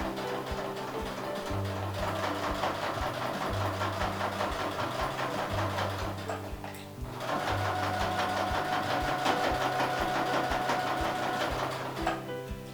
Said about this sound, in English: So I'm just going to stitch right down the edge.